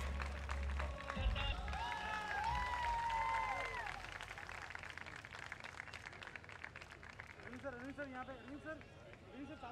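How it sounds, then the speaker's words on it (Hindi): Crowd applause at the Rajasthani Cine Awards show in Mumbai, a continuous rattle of many hands, mixed with an emcee's amplified voice and background music playing over it. "जोरदार तालियां"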